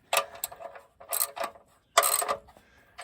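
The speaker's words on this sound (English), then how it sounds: "Now this one I would recommend tightening, just because it's your oil pan bolt." Ratchet wrench tightening the oil pan drain bolt on a Ford Ranger, close up, in three short bursts of rapid clicking with brief pauses between them.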